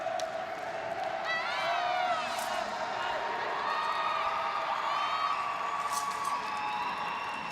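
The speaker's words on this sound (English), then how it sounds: "The crowd is going wild." A crowd cheers at a world wushu championship after a broadsword routine, with sustained whoops, shouts and whistles over a steady roar of arena noise, heard from a distance.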